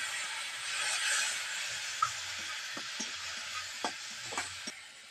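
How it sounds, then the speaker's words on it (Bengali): Spice paste with cumin powder and a little water fries in a pan for a fish roe dish, giving a constant close sizzle broken by several light scraping knocks of a spatula. "মশলাটাকে ভালো করে কষিয়ে নেব।"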